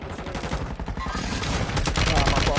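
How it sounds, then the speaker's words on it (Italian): Dense, rapid bursts of gunfire and explosions in a chaotic bombardment, loud and continuous cracks and booms overlapping with a busy, crowded background. "bombardamento"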